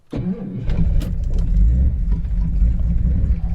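A car engine that had failed to start cranks briefly, then catches and settles into a loud, steady idling rumble that continues to the end.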